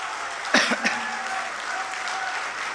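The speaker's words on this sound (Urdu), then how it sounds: "مجھے ایک بار زوردار تالی بجا کر کے حکم دیجیے" An audience at an Urdu poetry recital applauds, a steady wash of many hands clapping at moderate distance, with a couple of sharp bursts early and a faint tone running underneath.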